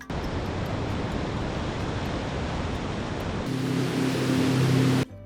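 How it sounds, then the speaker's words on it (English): Massive surf at Nazaré, Portugal, roars as a loud, continuous wash of breaking ocean waves, swelling slightly louder near the end before cutting off abruptly. "The town is known for having some of the biggest waves ever surfed. These waves are massive and unpredictable."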